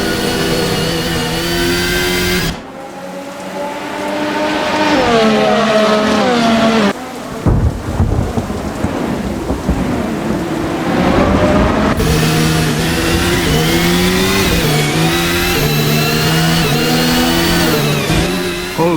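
Formula 1 cars at the 2024 Bahrain Grand Prix scream past with loud, high revving engine whines that rise and fall in pitch, several cars overlapping, with a brief drop in intensity between passes.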